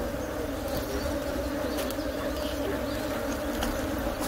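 A loud, steady drone of honey bees swarming around an open hive being checked after a split, close and continuous, with no speech.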